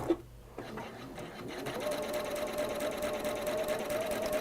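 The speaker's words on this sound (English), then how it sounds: "So we're going to sew the red and the green one together" A sewing machine stitches red and green quilt patches together, starting with a few clicks before settling into a steady, close, continuous mechanical whir.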